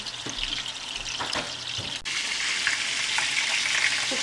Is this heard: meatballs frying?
yes